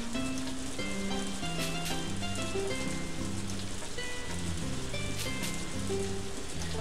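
Steady rain patters in the farming game Harvest Moon A Wonderful Life, a soft continuous hiss beneath gentle game background music, with no talking.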